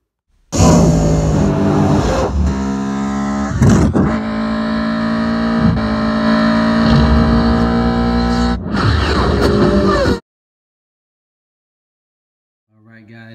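A Hot Wheels 1/64 toy car race between a Mitsubishi Eclipse and a Nissan 370Z, rendered as loud, sustained engine roars with shifting tones and abrupt changes, cutting off to near silence before a faint trailing sound.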